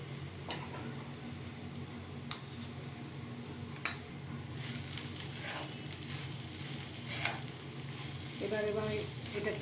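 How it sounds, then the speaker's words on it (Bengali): Grated bottle gourd with coconut, milk powder and sugar is stirred in a pan over a faint low sizzle, with occasional soft scrapes and clicks of the spatula, quiet and close. "এবার এটাকে আমি নাড়িয়ে নিচ্ছি ঠিক মতো"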